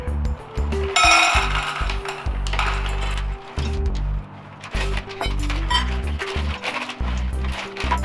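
Chocolate chips tossed into banana bread batter in a bowl, heard as a loud run of clinking, rattling hits with scattered knocks over about eight seconds.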